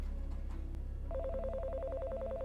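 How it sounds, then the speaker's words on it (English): A telephone rings in a police station, a rapid warbling electronic trill that starts after a short quiet moment and repeats steadily over a low hum, fairly faint and with no talking. "I almost missed the phone ringing."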